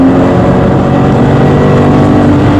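Toyota GT86 on a race track, engine droning steadily loud and close under continuous load, a sustained in-car hum with no break for the whole stretch.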